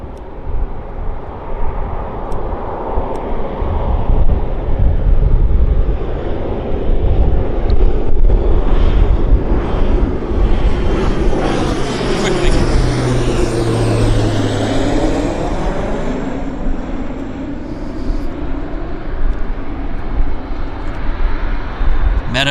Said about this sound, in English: I've got a King Air actually landing here